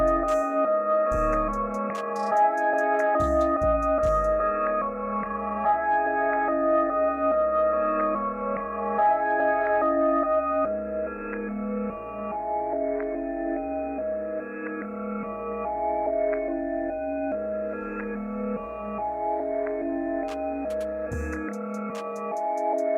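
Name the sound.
processed sample melody with reverb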